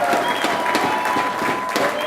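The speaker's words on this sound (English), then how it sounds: "Big round of applause for all of our social connectors." An audience at a company's first-anniversary celebration in Seattle claps steadily in a dense, continuous wave of applause, with occasional louder bursts and a faint voice underneath.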